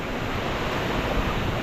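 Loud, steady roar of storm-strength wind rushing past the microphone at a farm field, a continuous broadband noise with no pauses.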